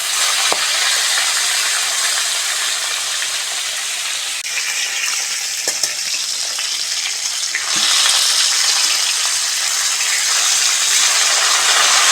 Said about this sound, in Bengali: মাছগুলো ভালো করে ভেজে নেবো তেল ভালোভাবে গরম হয়ে গেছে মাছগুলো দিয়ে দেবো